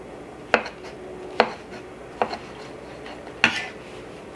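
A knife chops Bartlett pears into bite-sized pieces on a cutting board, giving four sharp, separate knocks spaced about a second apart, close and clear against a quiet room with no talking.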